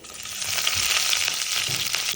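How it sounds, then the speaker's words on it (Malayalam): Mustard seeds crackle and pop in hot oil alongside dried red chillies and curry leaves for a cabbage thoran, a close, loud, busy frying hiss with scattered sharp pops. "കടുക് പൊട്ടുന്നുണ്ട്"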